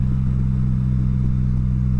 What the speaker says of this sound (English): This bike goes quick in overdrive.